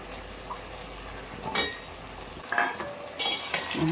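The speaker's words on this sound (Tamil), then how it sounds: "இந்த உருளைக்கிழங்கு இதில் சேர்த்துக்கிறேன்" Potato pieces going into a pan of prawn curry with drumstick and brinjal, heard as a few close metallic clinks and scrapes of cutlery against cookware with short splashy clatter, no talk.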